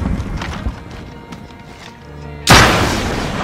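A rocket launcher fires in Warzone on Rebirth Island, with scattered gameplay noise giving way to a sudden loud explosive blast that rings out and decays over the final second.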